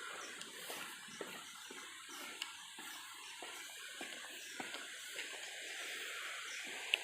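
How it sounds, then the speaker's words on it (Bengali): Water at Ajodhya Pahar in Purulia, a steady distant rushing hiss that stays constant throughout, faint and unbroken, with no talk. "জলের আওয়াজ এখনও এখানে অবধি পাওয়া যাচ্ছে"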